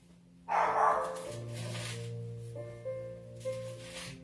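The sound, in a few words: dog barking during a sermon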